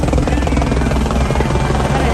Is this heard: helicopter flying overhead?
yes